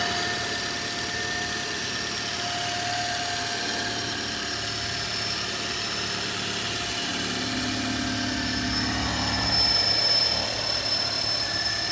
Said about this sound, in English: Car's running fine.